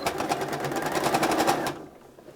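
A sewing machine stitches binding onto a fabric potholder, running in a steady rapid rhythm of needle strokes for about a second and a half, then stopping abruptly and leaving near silence.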